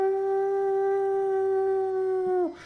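Wolves howling in a tabletop fantasy game setting: one long sustained howl with layered tones holds steady, then drops off abruptly near the end, loud and close with no talking.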